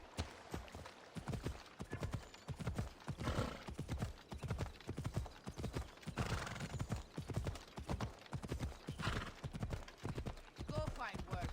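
Phobos, a horse in Assassin's Creed Odyssey, gallops with loud rhythmic hoofbeats throughout, giving a brief whinny along the way.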